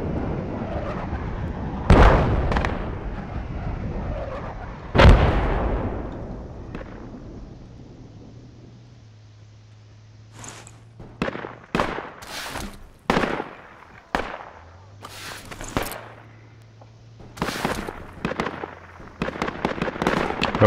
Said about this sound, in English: Did both mortars hit?